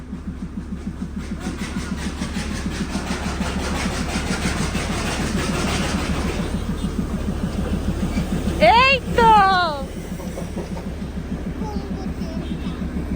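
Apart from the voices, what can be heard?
Darjeeling coal-powered toy train arriving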